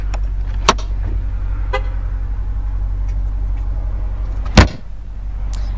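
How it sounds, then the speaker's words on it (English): The power tailgate of a 2015 Jeep Grand Cherokee SRT8 runs with a steady low electric motor drone, a few light clicks, and a sharp latching thud near the end. "it is a power tailgate, so you just press the button and it'll do the work for you"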